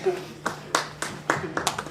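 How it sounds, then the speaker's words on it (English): A small audience claps after a physics demonstration at a lecture on the origins of the solar system. Several distinct, irregular claps ring out nearby over a steady low hum, with faint background voices. "So, yes, a round of applause here"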